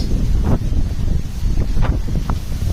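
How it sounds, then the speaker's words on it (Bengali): Strong wind outdoors in a village after rain, heavy low buffeting on the microphone with gusty rumbles, near and loud throughout. "তাও বাইরে বাতাস, প্রচুর বাতাস।"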